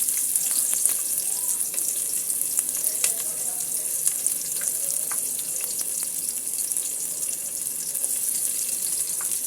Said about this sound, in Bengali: এবার আমি পেঁয়াজটাকে ভেজে নিচ্ছি।